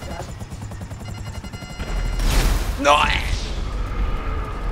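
Missile explosion and gunfire in GTA 5 Online: a loud, rumbling blast swells mid-clip with bursts of crackling fire over game noise, while a voice shouts.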